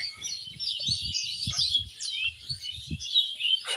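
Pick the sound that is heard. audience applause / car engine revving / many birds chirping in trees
many birds chirping in trees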